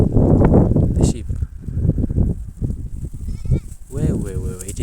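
Sheep bleat loudly in a farm shed, several wavering cries rising near the end amid livestock shuffling, with someone talking over much of it.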